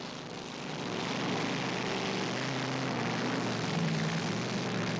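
A steady, loud roar of 1980s drag racing car engines staging, holding constant for several seconds, a low droning rumble with a faint rising whine.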